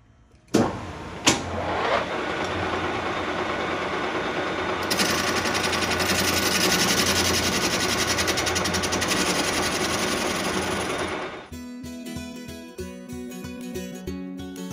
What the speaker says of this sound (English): now I can put it with the jaws pulling outside and I can machine the back square.